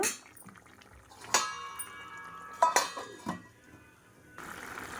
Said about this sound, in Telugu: సో ఇప్పుడైతే మూత పెట్టేద్దాం దీని మీద